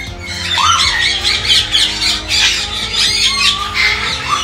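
A rosella parrot squawks loudly and close by in a run of harsh, rasping calls, with short pauses between bursts.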